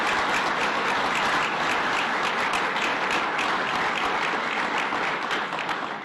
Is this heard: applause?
yes